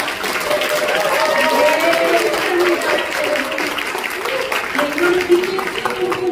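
Applause from an audience at a foundation launch and newspaper founding event, steady clapping heard under a speaker's amplified voice throughout.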